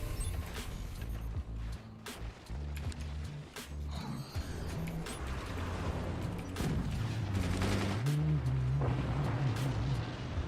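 Gunfire in the game Forts, with rapid bursts of shots and booming impacts layered over droning mechanical tones and hums, continuous and fairly loud throughout.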